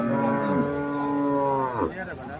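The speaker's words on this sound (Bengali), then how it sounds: "এখানে একটা গাভী দেখা যাইতেছে" A dairy cow at a cattle market in Comilla, Bangladesh gives one long, loud, close moo that bends downward near its end.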